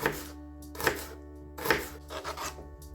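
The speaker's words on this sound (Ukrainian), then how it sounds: "Тепер нарізаємо цибулю." Knife chopping onion on a cutting board while making a beet salad: a few sharp, spaced chops close up, each a crisp percussive knock over a steady low background hum.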